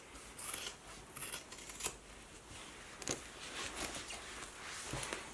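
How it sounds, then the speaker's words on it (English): Scissors snipping away the seam allowance of a sewn bag with foam interfacing, a quick series of crisp close cuts with light rustling of fabric between them. "then you're going to trim the entire seam allowance to 1/4 inch wide"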